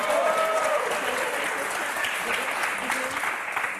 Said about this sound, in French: Et un tonnerre d'applaudissements pour Neil et Simon